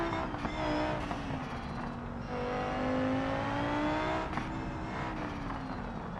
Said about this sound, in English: there's numerous improvements to sound, including new GT3 transmission whine,